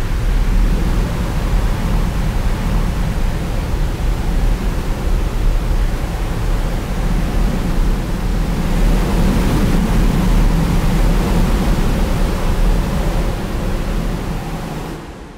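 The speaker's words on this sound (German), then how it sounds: "Das Rauschen des Wassers ist wie ein endloser Sturm." Loud, continuous roar of Angel Falls in Venezuela, heard from the cliff face beside the falling water. A dense, steady rush of noise fills the whole clip with no break, and no voices.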